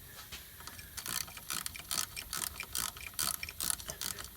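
A hand ratchet clicks in quick bursts while loosening a bolt on a car's serpentine belt tensioner, rapid pawl ticks in repeated strokes with brief pauses, close and clear.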